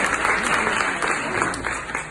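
A short burst of audience applause after a stand-up card trick, dense steady clapping from a crowd at moderate distance, sustained for about two seconds without a clear voice.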